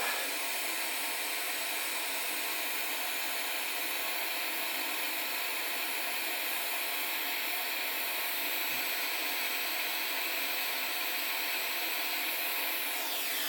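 Steady broadband hiss of a hot air rework tool blowing on solder over a chip during heatsink repair on an S17+ miner, continuous and fairly loud throughout with no break.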